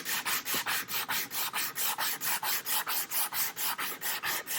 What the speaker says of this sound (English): And sand it all out by hand.